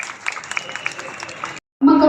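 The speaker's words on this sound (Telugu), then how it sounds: "డాక్టర్ జి అనిల్ కృష్ణ గారికి గట్టిగా ఒకసారి చప్పట్లతో అభినందనలు తెలియజేద్దామా?" An audience applauds at the grand launch of Medicover Hospitals in Secunderabad, with steady, moderately close clapping for about a second and a half before it cuts off, followed by a loud burst of another sound.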